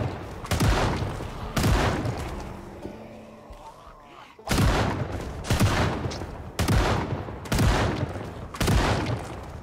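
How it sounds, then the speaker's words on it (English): Shotgun blasts aimed at zombies in the Project Zomboid video game: about seven heavy, booming shots in a steady rhythm, with a short quieter gap between the early and later shots. "let me just make sure I don't die by using the shotgun"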